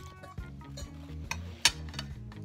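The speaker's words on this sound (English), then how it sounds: "It's just the frying of the eggplant." Eggplant slices frying in a pan for eggplant parmesan sizzle steadily while utensils stir and scrape, with a couple of sharper clinks against the pan near the end; no one speaks.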